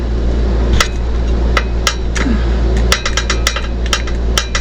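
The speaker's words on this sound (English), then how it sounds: "make sure I get my wrench all the way in" Sharp metallic clicks and taps from a wrench working a bolt on the fuel regulator of a Caterpillar C9 engine in a 2005 American Eagle motorhome ring out irregularly over a constant low hum, closely and fairly loudly.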